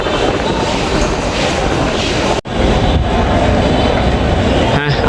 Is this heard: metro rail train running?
yes